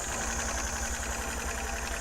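A Spangle Elite rhinestone machine runs a production job of bling face masks, giving off a faint, steady mechanical hum with a light, even vibration.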